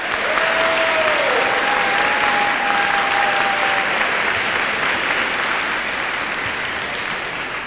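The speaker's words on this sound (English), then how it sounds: "Let's give our volunteers a nice round of applause." Academic decathlon audience giving volunteers a round of applause, a full, continuous wash of clapping filling the hall, with a brief whistle early on, holding steady before easing slightly at the end.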